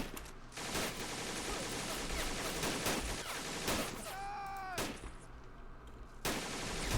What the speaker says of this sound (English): so we can just see some gunfire over there